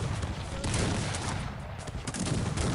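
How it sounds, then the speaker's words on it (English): Cannons and massed musket volleys in the video game Cossacks 3, a dense crackling fusillade of overlapping shots with heavy booms, continuous and moderately loud for a few seconds. "Let's open up with our cannons."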